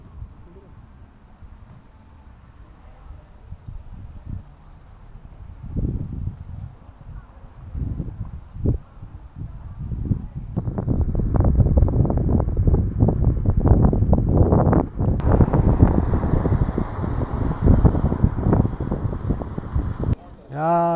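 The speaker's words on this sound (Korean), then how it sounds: "바람이 워낙 세갖고" Strong gusting wind buffets the microphone while riding an electric kick scooter on Jeju, a rough broadband rumble that builds from moderate to loud and sustained, with brief thumps and no talking.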